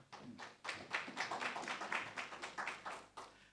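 A thin, quiet round of clapping comes from a modest audience after a plenary research week conference presentation, with scattered claps blending into an uneven patter.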